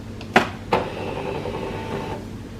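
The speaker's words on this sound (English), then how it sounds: "It has scanned the first side." An HP LaserJet Tank MFP printer scans an ID card, with two sharp mechanical clicks followed by a steady whirring scan-head drive that runs for a couple of seconds and then stops.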